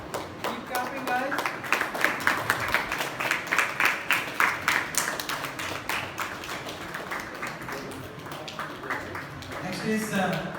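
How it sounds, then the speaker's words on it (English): An audience claps at a prize ceremony for a Values Olympiad, rhythmic group clapping that holds steady for several seconds while voices talk over it. "Keep clapping, guys."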